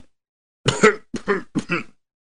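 A voice imitates an old man coughing and groaning: three short, rough, close bursts in otherwise silent surroundings.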